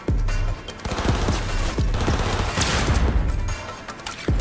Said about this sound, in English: Guns blazing, huh?